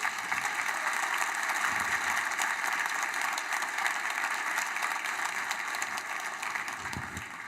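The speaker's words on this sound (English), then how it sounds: "let's give a big round of applause to all the winners" Steady, dense applause from a sizable conference audience, sustained evenly for several seconds without voices.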